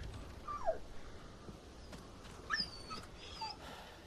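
A dog whimpers in Resident Evil 4 Remake, thin high yelps and whines coming in a few brief bursts over a quiet, murky ambient background, faint and somewhat distant.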